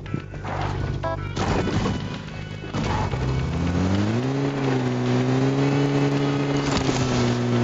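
A car engine in a video game grinds loudly after a crashing impact, then settles into a steady drone whose pitch rises and holds as the vehicle drives on.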